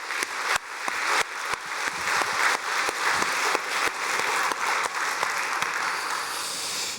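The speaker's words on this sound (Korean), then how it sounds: "박수하겠습니다." A church congregation claps together during a Sunday worship service, a dense, steady wash of applause lasting throughout with no talking over it.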